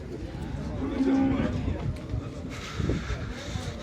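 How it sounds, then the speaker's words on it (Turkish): Cattle moo among a noisy crowd at a livestock market, with people talking over the lowing animals. "her yerde inek var"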